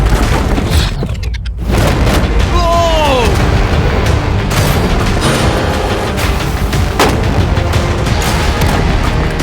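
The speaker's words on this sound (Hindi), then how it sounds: "पहले बाकी शॉट्स फायर कर लेते हैं" Gunshots fired at a metal shipping container ring out as a loud boom and sharp cracks at a range, with hollow echoing bursts and busy wind-blown background noise throughout.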